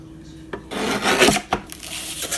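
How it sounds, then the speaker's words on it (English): Notebook paper pages being trimmed to size for 5 by 7 inch booklets, heard as a few dry rasping, scraping cuts in short bursts, close and alone with no talk. "And I'm going to trim off at the top at this first line."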